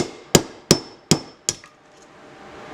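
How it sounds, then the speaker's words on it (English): Four sharp metallic hammer blows on a punch driving out the governor of a Hemi 212 engine, evenly spaced and close, each ringing briefly before fading, with no talking. "Now we're gonna go on the other side and try to punch out the governor itself."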